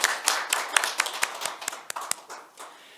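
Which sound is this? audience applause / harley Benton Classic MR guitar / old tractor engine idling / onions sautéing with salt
audience applause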